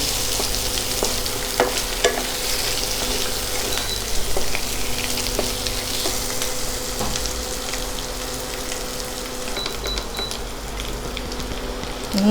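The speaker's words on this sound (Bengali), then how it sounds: "একটু লাল করে ভেজে আমি আলুটা তুলে নেব" Potato pieces fry in hot oil with turmeric and salt, giving a steady, fairly loud sizzle with occasional small crackles and stirring clicks, unbroken for the whole stretch with no talking.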